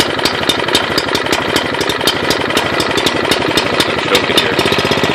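Troy-Bilt Proline rototiller engine running on choke, a loud, steady rapid chugging with sharp rhythmic knocks, close and continuous with no talk.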